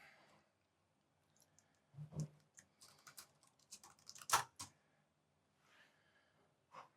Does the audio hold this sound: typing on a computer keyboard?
yes